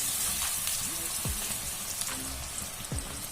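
Onion pakoda batter dropped into fully heated oil sizzles in a steady, close crackle, with brief splashy bursts as pieces go in, a faint voice murmuring underneath.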